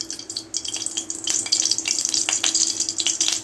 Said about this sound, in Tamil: எண்ணெய் நல்லா காயட்டும்.